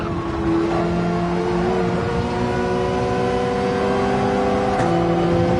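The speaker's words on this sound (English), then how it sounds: "Jay Rizzio, good job picking a loud car" A loud, sustained race car engine in Gran Turismo 7 drones at high revs, its pitch shifting slightly as it runs continuously.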